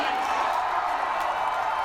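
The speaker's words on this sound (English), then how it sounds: "The crowd erupts with excitement as former state Senator Stephanie Bice defeats Democratic incumbent Kendra Horn" A crowd roars and cheers at an election-night watch party as former state Senator Stephanie Bice defeats Democratic incumbent Kendra Horn, a dense, steady wall of voices and excitement with no break.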